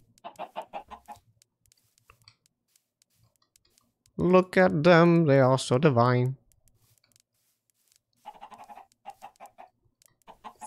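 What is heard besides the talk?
chickens clucking in the Minecraft video game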